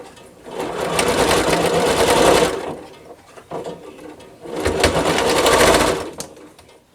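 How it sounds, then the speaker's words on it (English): A sewing machine stitching quilt block pieces together runs in two loud steady bursts of about two seconds each, separated by a brief pause, close by and alone. "Sew these 2 together."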